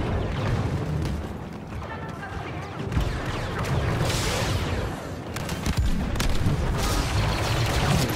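Explosives blasting through a barrier during Star Wars Battlefront II combat, a dense rumble of booms and gunfire layered continuously with several heavier blasts, loud and sustained throughout.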